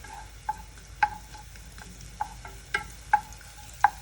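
Shallots sauté in a pan while a utensil stirs them, giving a faint sizzle under a series of distinct, sharp clinks and taps against the pan, roughly one or two per second; no one speaks.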